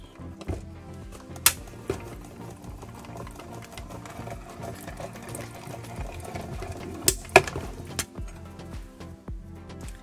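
A die-cutting machine pushes a card panel through its rollers, giving a steady close mechanical whir and grind broken by a few sharp clicks and clacks.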